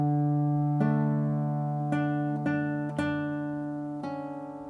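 Fingerstyle acoustic guitar playing an arrangement: a few clear plucked notes and chords ring out and decay, including a pull-off. It is soft and close, and no one speaks.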